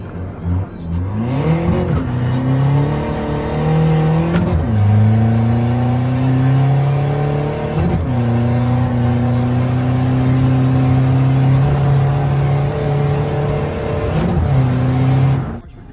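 A 2020 pickup with a 3.0 engine, manual gearbox and AlphaTech SuperStorm tuning box accelerates hard, engine revving up through several gears with brief dips at each shift, loud and steady throughout.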